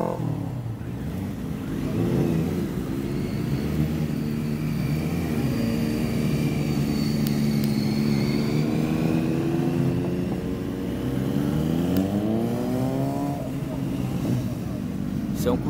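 Several motorcycles circulate on the Interlagos race circuit during a track-riding course. Their engines drone steadily at mid distance, with pitches rising and falling as bikes accelerate and pass. The buzzing layers overlap continuously for the whole stretch.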